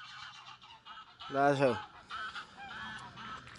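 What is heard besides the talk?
geese honking at a park lake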